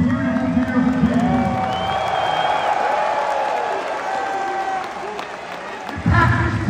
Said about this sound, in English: Give yourselves a round of applause, you beautiful, beautiful people.